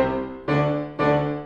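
Piano octaves struck with uneven force between the thumb and the little finger, three separate strikes about half a second apart, each ringing out and decaying before the next, close and alone.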